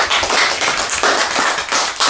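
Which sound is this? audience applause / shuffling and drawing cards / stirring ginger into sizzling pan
audience applause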